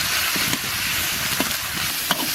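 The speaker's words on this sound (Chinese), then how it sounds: "牛肉炒上色，下入葱姜、干辣椒、花椒" Beef stir-frying in a wok with scallion, ginger, dried chili and Sichuan peppercorn gives a steady hiss and sizzle, with a few faint scrapes and clinks from stirring and no voices.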